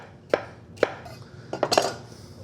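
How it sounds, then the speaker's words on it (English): A knife chops celery ribs at an angle on a cutting board. There are two separate crisp cuts, then a quick cluster of three or four more, sharp and close. "Celery ribs, these are beauties. And I'm just chopping this at a 45-degree angle."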